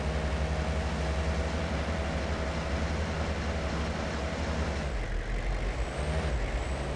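A vehicle drives along a winding road in the hunting game Way of the Hunter, its steady loud engine rumble and road noise continuous throughout, easing slightly near the end.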